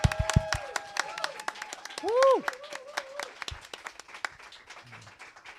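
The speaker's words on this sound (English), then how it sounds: "So big round of applause for these amazing people." Applause and clapping from a Pride livestream audience at a studio event, a burst of claps with a loud whoop under spoken remarks and a tonal whistle-like sweep.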